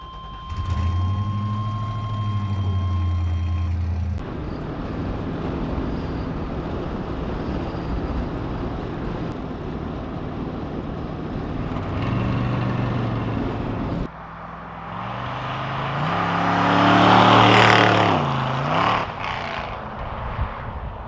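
An LS-swapped Chevy square body crew cab dually drives on a road, its engine droning steadily with gear changes and a rising surge of road and wind noise toward the end.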